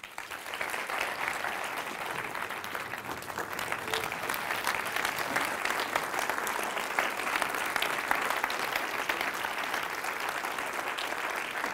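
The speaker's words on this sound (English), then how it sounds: "I don't need another round of applause" A conference audience claps steadily and densely for around twelve seconds, a sustained roomful of applause at even loudness with no voices rising above it.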